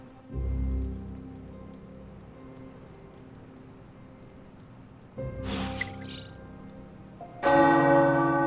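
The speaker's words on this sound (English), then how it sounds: "The tower bells are ringing." Tower bells ring in the video game Marvel's Midnight Suns, a struck bell arriving near the end with a bright shimmering tone over a soft rain-like backdrop, alone and without talk.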